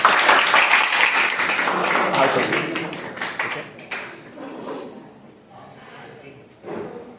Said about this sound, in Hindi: चलिए आप लोग स्वागत कीजिए जोरदार ताली के साथ